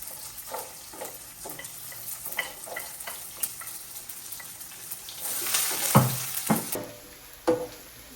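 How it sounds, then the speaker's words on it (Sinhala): Garlic sizzles gently in sunflower oil in a pan over low heat, with intermittent stirring scrapes and a louder burst of frying near the end. "ඉතින් ඔන්න කොහොමයි සුදු ලුණු ටික පොඩ්ඩක් මේ තෙලේ බැද ගන්න ඕන."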